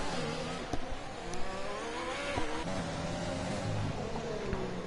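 Racing karts pull out of the pits on hard tyres at a kart circuit, their small engines droning and shifting pitch as several pass at middle distance.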